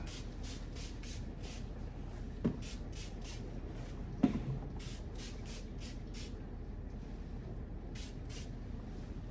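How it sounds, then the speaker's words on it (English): Repeated short bursts of aerosol hair spray, hissing in a loose rhythm close by, with a couple of sharp clicks between sprays. "So I'm going to start spraying."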